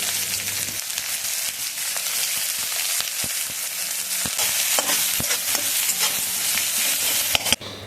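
Chopped onions fry in hot oil with dried red chilli and bay leaf, a loud, dense, continuous sizzle with occasional spatula knocks and scrapes, close up.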